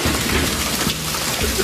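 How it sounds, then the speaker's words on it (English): Large hail pounds house siding and gutters during the 2010 Oklahoma City hail storm, a dense, loud, continuous roar of ice impacts with no pauses. "the hail was coming in from this way, just pounding the siding and pounding the gutters and ripping everything off"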